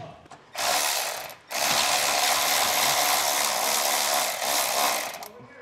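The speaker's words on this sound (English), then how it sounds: "So we have two 13 millimeter nuts or bolts." A ratchet wrench clicks steadily as two 13 mm bolts are backed out of a brake line bracket beneath a vehicle during an underbed gooseneck hitch install, with a short pause midway between the two bursts of ratcheting.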